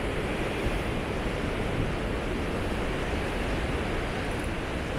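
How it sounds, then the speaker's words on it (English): Loud ocean surf pounding the Oregon coast, a dense continuous roar of breaking waves close by, steady throughout with no voices. "These waves are super loud."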